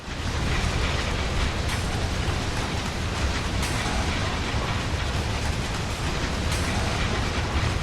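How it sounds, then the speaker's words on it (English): A simulated train on the New York Northeast Corridor in Train Sim World roars past in a dense, continuous wash of loud rolling and rumbling noise that never lets up, with no talk heard. "Is that my train, all that noise"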